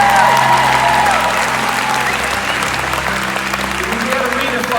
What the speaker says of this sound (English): Well, come on, if you believe it, you can go ahead and clap.